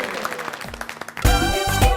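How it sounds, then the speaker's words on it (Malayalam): A studio audience on a Malayalam television cooking show bursts into loud, sustained applause just after a host speaks, continuing to the end. "നല്ല ക്ലാപ്പ് പ്ലീസ്"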